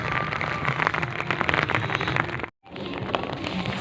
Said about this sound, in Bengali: তো বৃষ্টি পড়ছে